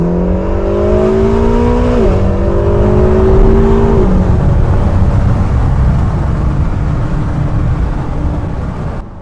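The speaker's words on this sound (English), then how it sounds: "The way this car downshifts is unreal." A Ferrari California T engine revs high and steps down through gears in quick drops, a loud sustained roar that then settles into a lower drone.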